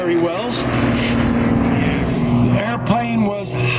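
A WWII-era Luftwaffe standard advanced trainer aircraft performs aerobatic point rolls at a 2022 World War II weekend airshow, its steady engine drone continuous and fairly loud throughout beneath an announcer talking over a public address.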